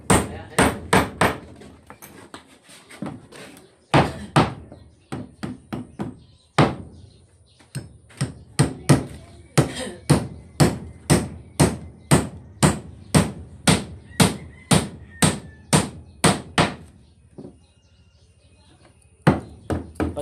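A hammer strikes repeatedly during a repair job, the blows sharp, loud and close, coming in quick irregular bursts and then a long steady run of evenly spaced hits with brief pauses.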